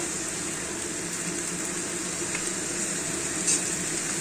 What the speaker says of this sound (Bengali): এবার গ্যাসটাকে একটু বাড়িয়ে দিয়ে এটাকে নাড়াচাড়া করছি